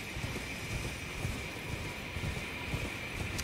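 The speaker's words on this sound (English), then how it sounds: "We'll get on the horse and we'll just." A horse gallops in the video game Elden Ring Shadow of the Erdtree, a rapid regular clip-clop of hooves under a constant airy hiss and faint tone, moderately quiet and without speech.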